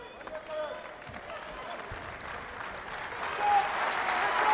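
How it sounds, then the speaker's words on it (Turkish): A basketball crowd applauds steadily in a large arena at a Turkey–Portugal game, the clapping swelling slightly toward the end, with a voice talking over it. "Büyük alkış oluyor."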